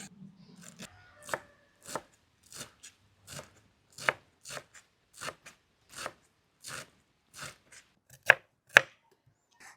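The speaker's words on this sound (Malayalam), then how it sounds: "നമുക്ക് മല്ലിയിലയും പുതിനയിലയും കൂടി കട്ട് ചെയ്തെടുക്കാം." A knife chops coriander and mint leaves on a board in a steady series of crisp, separate strikes, close and clear against a quiet background.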